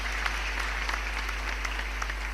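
An audience at a Hindi poetry recital claps steadily, a dense and even burst of applause over a constant low hum.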